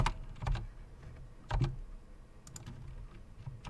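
Typing on a computer keyboard at a desk, with a few bursts of clicks and key presses spread across several seconds, close but quiet, with no speech.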